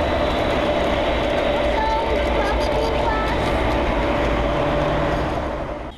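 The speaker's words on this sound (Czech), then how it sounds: "Lokomotivy jsou ozvučené" A sound-equipped model railway locomotive on a digitally controlled 24 V layout runs steadily along the track, giving a continuous, fairly loud rolling rumble from start to finish, with voices mixed into the background.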